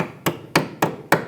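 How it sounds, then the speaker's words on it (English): Four sharp metallic hammer taps, evenly spaced and close, drive a brake hose retaining clip into its bracket on a 2012-2018 Nissan Altima rear brake line, with no talking. "Tap it in with a hammer."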